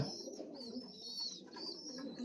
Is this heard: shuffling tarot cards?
no